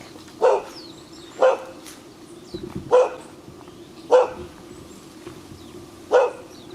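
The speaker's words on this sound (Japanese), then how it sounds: "また犬がいる。" Dog barking outdoors on a small island in the Seto Inland Sea, five single barks spaced about a second apart, moderately close, with faint background ambience between them.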